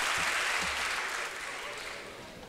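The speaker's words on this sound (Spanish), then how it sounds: "el público te regala este fuerte aplauso" Applause from a crowd, a dense wash of clapping that stays steady and fairly loud, then eases slightly toward the end.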